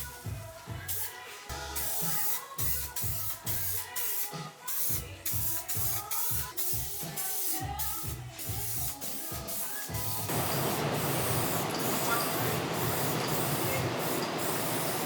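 An aerosol can of hardener-mixed primer hisses in bursts onto a crashed Nissan 240SX, short sprays interrupted by gaps before settling into a long continuous spray near the end.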